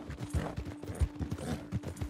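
Horse hooves clip-clopping at a steady walk in Red Dead Redemption 2, a regular series of close, dull thuds over a faint steady hum.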